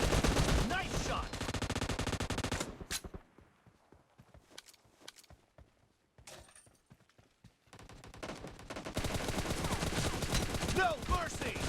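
Rapid bursts of automatic gunfire in the video game PUBG, loud dense volleys at the start and end with scattered single shots and quieter footsteps in between.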